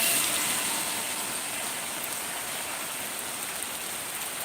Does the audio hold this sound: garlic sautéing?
no